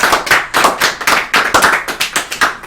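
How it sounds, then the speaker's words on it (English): A small group claps at the end of a Contra 4 speedrun, a quick, steady run of loud, close hand claps with no talk. "Do we clap? We should clap."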